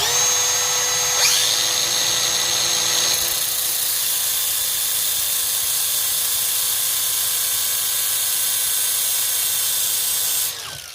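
A high-pitched power tool whines steadily and loud at close range, cutting slots into bolts from a Latvian Riga 13 moped, running continuously before winding down at the end.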